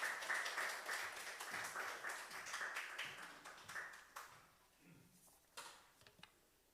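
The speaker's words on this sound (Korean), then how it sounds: "우리 박수로 청해 듣겠습니다." A church congregation at a Sunday service graduation ceremony claps together, loud and dense at first, then thins out to scattered, fading claps with a few louder taps near the end.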